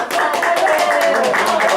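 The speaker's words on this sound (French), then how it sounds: "On a applaudi ou pas?" Film crew applauding on set during a making-of shoot: a dense burst of clapping from several people nearby, steady for under two seconds, with voices murmuring underneath.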